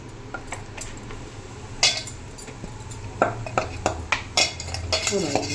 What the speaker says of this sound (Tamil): இந்த மாதிரி மசாலா வந்து கலந்துக்கலாங்க